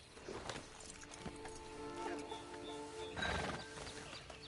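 Hooves clop along under a loud horse whinny in the video game Red Dead Redemption 2, with a steady game ambience behind them and no talking.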